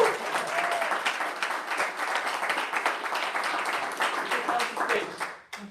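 Applause for an award winner at a food and tech event, a crowd clapping steadily with some cheers and voices mixed in, tapering off at the end.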